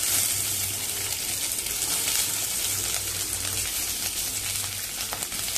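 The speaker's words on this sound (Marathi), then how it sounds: "चांगलं आपण तेलावरती भाजून घेऊया" Onion, garlic and ginger frying in half a spoon of hot oil in a wok on a gas stove, a dense continuous sizzle close by, with no talking.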